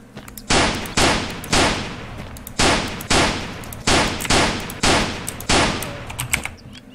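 Rapid pistol gunfire in the video game Way of Hero: about a dozen loud, sharp shots in an uneven burst-like rhythm, each with a short decaying tail, close up and with no talking.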